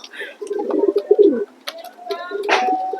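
Racer pigeons coo in a loft, soft throaty coos and short chirpy calls overlapping in irregular bursts, close by and fairly loud.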